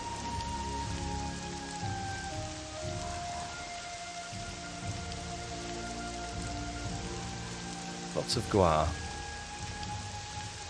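Heavy rain falling steadily in the video game Morrowind, a continuous wash of downpour throughout, with faint game tones underneath and a person talking briefly over it.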